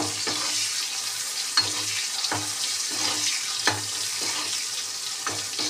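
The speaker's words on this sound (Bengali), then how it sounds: "নুন হলুদ দিয়ে আগে আমি বেগুনটা ভালোভাবে ভেজে নেব" Eggplant pieces frying in oil seasoned with salt and turmeric, a dense continuous sizzle punctuated by regular soft thuds or stirring knocks about once a second, with no voices.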